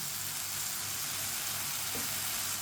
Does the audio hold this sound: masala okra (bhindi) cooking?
yes